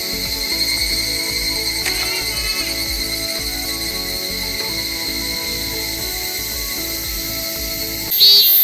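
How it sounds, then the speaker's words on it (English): A steady, high-pitched cicada drone hums continuously through the treetops, unbroken and fairly loud, with a brief louder burst near the end. "this insect that is always making noise in the background. So this is the cicada"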